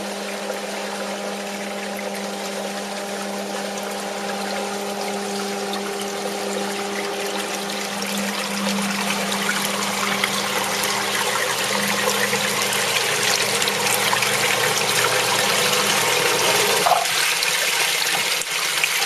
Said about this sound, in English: Now you'll see the water flowing in from the pipes outside.